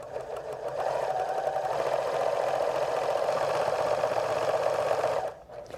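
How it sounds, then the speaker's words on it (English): A sewing machine zigzag-stitches lace onto a folded fabric edge, a steady close whirring run of rapid needle strokes lasting about five seconds before stopping. "zigzag the lace to the folded edge, catching the fabric and the lace in the stitching"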